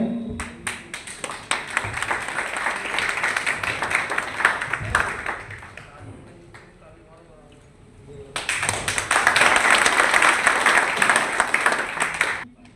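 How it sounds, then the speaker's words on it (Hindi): A crowd at a community brotherhood gathering in a banquet hall claps in two loud bursts with a quieter stretch between, while someone speaks over a microphone. "ताली में कंजूसी नहीं रहे।"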